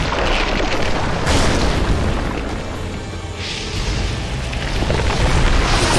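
Loud, rumbling roars and booming blasts from a dragon in The Witcher 2, swelling and fading in waves, with no speech.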